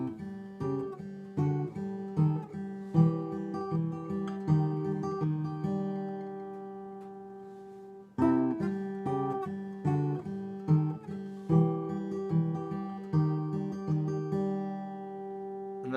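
A solo acoustic guitar plays a fingerpicked pattern, with a steady plucked rhythm of ringing notes and a short pause midway before the pattern starts again, clean and close.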